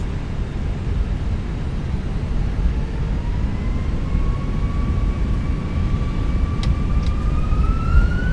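An American Airlines A320's engines roar at takeoff thrust in Microsoft Flight Simulator 2020, a loud, steady broadband rush with a thin whine that climbs gradually in pitch as the engines spool up.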